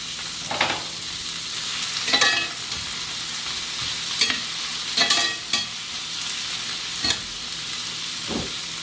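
Chicken 65 fries in a pan for a South Indian dish, sizzling steadily under repeated sharp scrapes and clatters of stirring. No one speaks.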